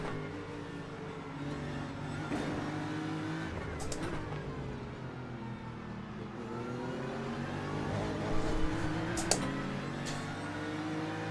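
Race car engines in the iRacing sim game, from a Petit Le Mans endurance race, roar steadily for several seconds, with pitch rising and falling through gear changes and brief tire squeals.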